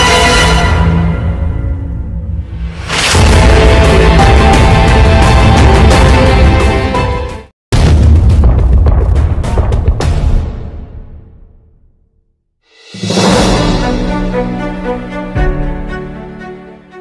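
An atomic bomb explosion sound effect, loud and close, with heavy deep roaring blasts that swell and fade in several long waves separated by sudden cutoffs and near-silent gaps.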